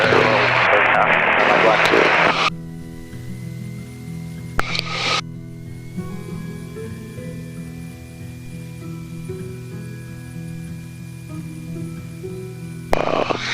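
A Nomad propeller aircraft taxis toward the runway on a medical mission flight, its engine droning steadily with tonal hum throughout, while a voice speaks briefly at the start under the engine noise.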